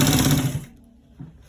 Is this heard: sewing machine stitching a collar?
yes